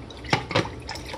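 Almond milk is poured into a protein shake, with a couple of short splashing bursts and a light liquid trickle, close and brief.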